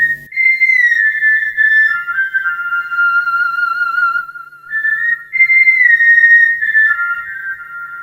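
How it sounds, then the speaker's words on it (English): Someone whistles a lilting melody alone, clear and close, with sliding notes and a brief breath pause midway. "So he decided to whistle a tune."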